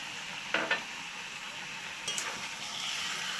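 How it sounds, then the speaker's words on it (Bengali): Mutton curry with chopped tomatoes being stir-fried in a pan, a soft continuous sizzle with two short bursts of scraping and stirring from a utensil against the pan. "এটাকে আমি ভালো করে এবার কষাবো।"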